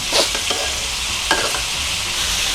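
Steady hiss of pork sizzling in oil in a wok, with a few scraping stirs of a spatula, close and continuous without any voices.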